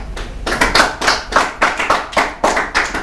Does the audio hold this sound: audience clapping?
yes